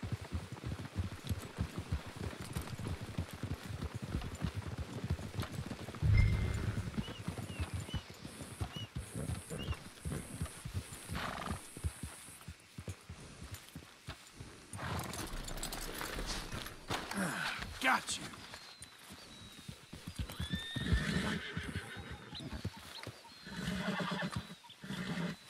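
Horses whinny and neigh in a Wild West video game, with hooves clopping and footsteps scattered through a busy scene. Bursts of louder animal noise and background effects come and go over about half a minute.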